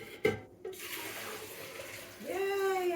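A homemade vanilla yogurt mixture is poured into a container. There are a few knocks at first, then a liquid gurgle whose pitch rises steadily as the container fills toward the end. The sound is close and moderately quiet.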